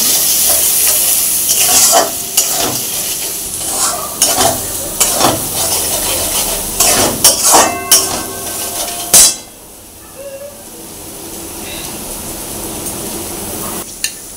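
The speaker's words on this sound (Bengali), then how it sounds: "এবার মশলাগুলো ভালো করে মিশিয়ে নেব।" A spoon stirs and mixes spices for an egg curry in a frying pan, with repeated scraping clinks against the metal over a steady sizzle, loud and close, then the stirring stops and only a softer sizzle remains.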